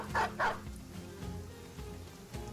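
A war dog in the turn-based game Battle Brothers lets out two quick close barks, followed by quieter battle sounds and ambience.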